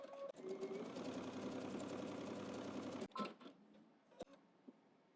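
A sewing machine runs steadily for about three seconds while top stitching across a garment, a close, even mechanical whir. It then stops, leaving a few separate clicks and taps.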